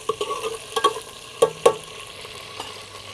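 About half a cup of oil fries ingredients to brown in a pan for chicken shorba, with a soft sizzle under sharp clinks and scrapes of stirring that come in irregular bursts, then fade.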